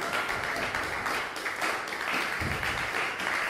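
A church congregation applauds the Lord during a French-language service, a dense, steady wash of many hands clapping in a reverberant room, loud and sustained throughout without pause.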